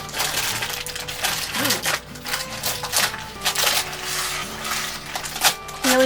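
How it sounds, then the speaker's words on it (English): A homemade Snickers-style candy layer is lifted and peeled out of a mold, giving close, irregular crackling, clicking and tapping sounds with a few soft thumps. "Now I'm going to just lift that out. And I'm going to peel down the layer here."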